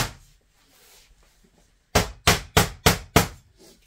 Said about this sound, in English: you should be good to hammer these down.